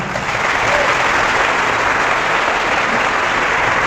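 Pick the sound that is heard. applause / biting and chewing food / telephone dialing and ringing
applause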